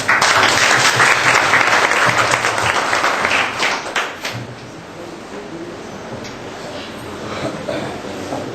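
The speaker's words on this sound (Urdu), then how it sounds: "بھرپور تالیوں میں آپ ان کو دعوت کلام دیجیے" Loud, dense applause from an audience at an evening Urdu poetry recital, filling the opening seconds, then thinning into scattered clapping and room murmur.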